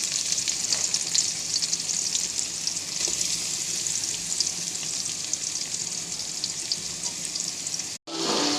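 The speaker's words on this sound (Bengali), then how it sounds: "তো আর তেলটা গরম হয়ে এসেছে, পেঁয়াজ কুচি দিয়ে দেব।" Chopped onion fries in hot oil with a steady, loud, close hiss and crackle that runs continuously and then cuts off briefly near the end.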